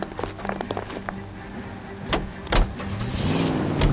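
A car in the video game L.A. Noire starts off and accelerates, engine rising in pitch over a few seconds with scattered thumps, close and moderately loud.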